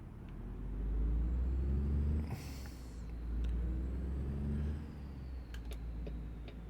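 Modded truck engine in a truck simulator game, fitted with an engine sound mod: a steady low rumble that swells twice as the engine revs, with a brief air-brake-like hiss in the middle, no talking.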